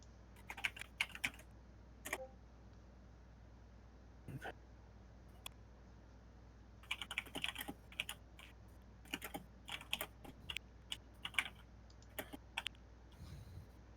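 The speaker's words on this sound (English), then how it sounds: "Can you guys hear the clacking on my keyboard?" Quiet keyboard typing comes in irregular bursts of light clacks, pausing now and then, with a soft steady hum underneath.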